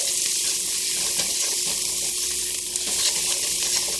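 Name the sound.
seasonings frying with onions and garlic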